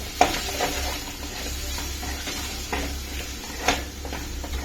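Spices being stirred in a pan on the stove for a home-style mushroom cashew curry, a soft continuous scraping and gentle sizzle with a few light clicks of the spoon against the pan, close and fairly quiet.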